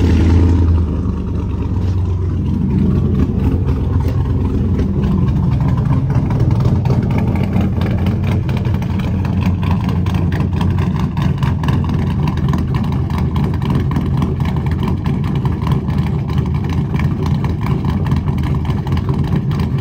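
A 2007 GMC Sierra truck with stock exhaust manifolds, true dual exhaust and hollow cats starts up and settles into a steady, loud, deep idle rumble that runs without a break, with no talking.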